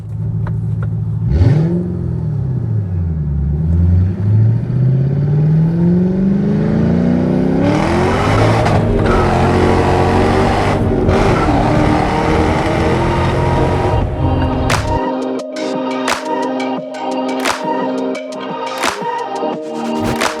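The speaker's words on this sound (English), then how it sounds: "we'll have an opportunity to get in the throttle here pretty good." A supercharged 4.6-liter 2006 Ford Mustang Saleen revs up hard, engine pitch climbing steadily into a loud, sustained roar with supercharger whine, then easing off near the end as rattling clicks and lighter mechanical noise take over.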